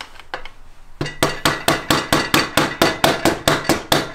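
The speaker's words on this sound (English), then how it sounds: "I'm just going to use a flathead screwdriver and a rubber mallet to try to" A rubber mallet strikes a flathead screwdriver to drive out the axle of a 2009 Yamaha R1 motorcycle during a rebuild. A few light taps come first, then about thirteen steady, evenly spaced, loud close-up blows.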